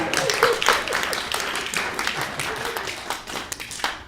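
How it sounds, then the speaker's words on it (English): Applause from an audience at a talk on magic, a dense patter of clapping running the full length at moderate loudness, with some voices mixed in. "She should get a round of applause for that."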